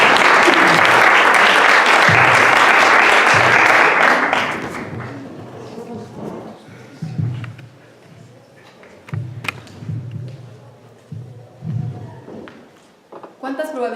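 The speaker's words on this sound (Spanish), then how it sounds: "Aplausos" A crowd applauds at a book presentation for actresses of the original staging, loud and dense for about four seconds before cutting off, after which scattered taps and faint voices remain in a quieter room.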